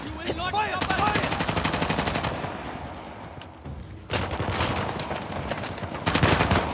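Sustained automatic gunfire from Uncharted: The Lost Legacy, loud and dense, with rapid rattling bursts that dip briefly in the middle and then resume, under a busy combat mix.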